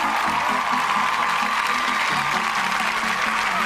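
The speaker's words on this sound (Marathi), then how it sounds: "जोरदार टाळ्या" Audience at a stage show breaking into strong applause, a continuous, even roar of many hands clapping with a faint crowd murmur, steady from start to finish.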